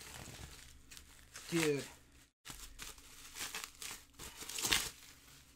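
Someone cuts into a package during an omnibus comic book haul, with crinkling and tearing of packaging close by, broken by a brief pause and a spoken exclamation over the handling noise.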